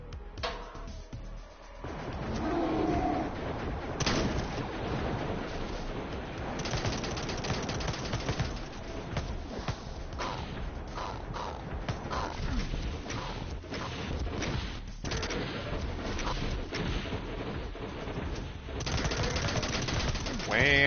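Rapid machine-gun bursts and scattered shots in a Doom video game fire almost continuously, loud and close, with brief gaps between volleys and a voice occasionally heard underneath.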